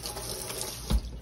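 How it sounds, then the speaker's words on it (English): Tap water runs steadily into a sink as hands are washed during pulled pork sandwich prep; a brief, quiet, even rush with a slight swell near the end. "Wash my hands here."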